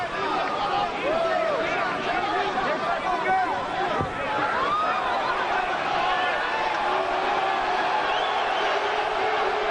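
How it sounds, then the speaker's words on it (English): A large crowd roars and murmurs continuously in a big indoor boxing arena, a steady wash of voices with occasional shouts. "You hear the crowd out there."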